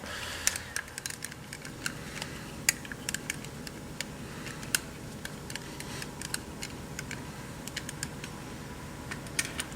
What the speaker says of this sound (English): now I'm going to take this screw out